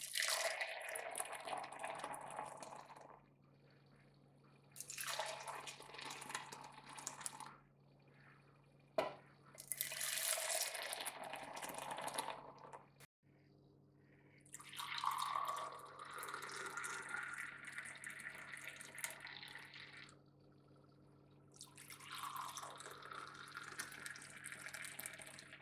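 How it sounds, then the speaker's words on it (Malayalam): Masala chai is poured back and forth between two cups in several separate bursts of splashing liquid, with quiet gaps between the pours. "വേറൊരു കപ്പ് എടുത്തിട്ട് 1-2 പ്രാവശ്യം ഇതൊന്ന് അങ്ങോട്ടും ഇങ്ങോട്ടും ഒന്ന് ആറ്റിയെടുക്കാം"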